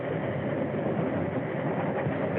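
A train runs steadily along the rails with a continuous loud rumble and rolling clatter of railroad cars, close and unbroken, with no voices over it.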